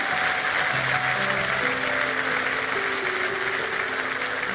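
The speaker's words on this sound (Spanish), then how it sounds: "Un aplauso a todos ellos que hicieron esta oración" A church congregation applauds after a prayer at a worship service, a continuous steady roar of clapping, loud and even throughout, with music or held tones sounding faintly underneath.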